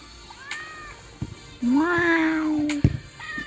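A video game cat's meow rises and falls across about a second, moderately loud, as it is petted in the game mo.co, with a few short soft clicks and thumps around it and no talking.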